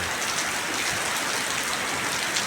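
Heavy rain pours down in a dense, constant hiss, close and loud throughout, with no voices over it, during a late-October downpour at the end of the rainy season.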